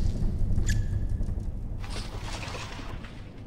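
Muffled scraping and shuffling movement in the video game Spirit Hunter: Death Mark drifts over a steady low rumble, soft and indistinct, with brief scratchy bursts partway through.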